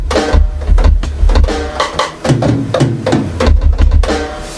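Music plays loudly through a home studio's main monitoring speakers, a dense rhythmic track with strong beats and full bass, with no talking.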